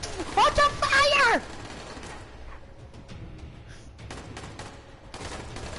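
Burst of rapid gunfire in the zombie survival video game Dying Light, loud and clustered in the opening second and a half, then giving way to quieter mechanical clicks and rattles in a background ambience.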